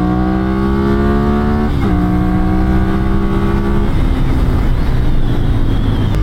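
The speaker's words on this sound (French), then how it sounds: "c'est vraiment un moteur qui marche quand même vachement mieux haut dans les tours" A Ducati Monster 796 motorcycle's engine revs loudly and steadily, climbing high in the revs with a shift-like dip midway, then easing into a rougher, lower drone as it continues.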